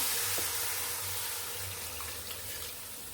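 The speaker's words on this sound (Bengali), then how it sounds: "এই যে এখন দিয়ে দিলাম আমি ঝোলের পানি" Water poured into a frying pan of browned country chicken for curry, giving a steady, continuous rushing pour with faint sizzle underneath, close and fairly even throughout.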